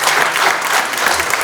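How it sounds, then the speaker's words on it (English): An audience at an American Legion Veterans Day dinner claps, giving a loud, dense burst of close applause that carries on steadily. "Can we give Phil one more round of applause?"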